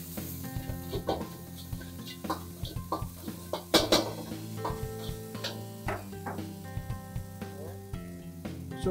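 Curry leaves hit hot oil with ginger-garlic paste for a Telugu badam chicken curry, crackling and sizzling in bursts while a spoon clinks and scrapes against the pan.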